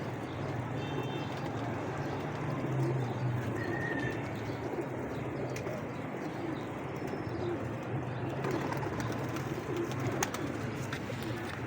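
Pigeons coo steadily in soft, low, repeated calls at a bird market in Lahore, with faint chirps and background bustle underneath.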